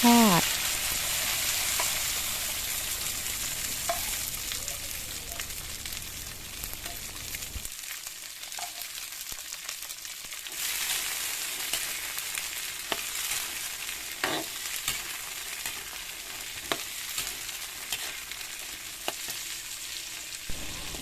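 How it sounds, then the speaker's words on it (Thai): Steady crackling sizzle of food frying in hot pork lard in a pan, with occasional stirring scrapes and louder pops, continuous throughout. "เอามาทอด ลงกระทะ"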